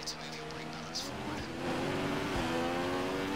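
A race car passes close across a finish line, a steady engine drone building louder midway with a brief tonal sweep, heard under ongoing commentary.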